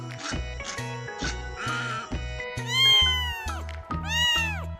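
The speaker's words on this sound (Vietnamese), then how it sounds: "Chú mèo con." A kitten meows repeatedly, its rising and falling cries standing out clearly and close over a soft rhythmic musical backing.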